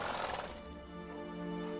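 Roach, the horse in The Witcher 3: Wild Hunt – Blood and Wine, gives a whinny: a bright, breathy burst that settles into a sustained, wavering neigh, close and clear without speech.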